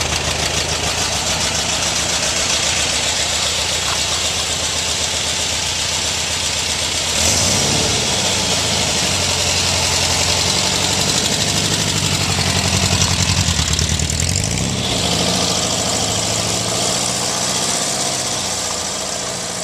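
A trike with a Volkswagen engine on a test ride: a steady, loud mid-pitched engine drone that swells with revving partway through and then settles, close and continuous with no talk.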